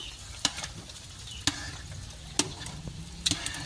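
A spoon scrapes and stirs thick biko sticky rice cake mixture in a pan, with four distinct scraping knocks spaced about a second apart over a low, steady sizzle.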